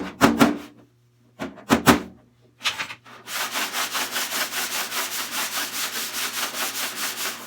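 A sanding block rubs against a metal body panel of a 1968 Pontiac Firebird in a few short strokes, then a long run of quick, rhythmic back-and-forth scrubbing, close and loud.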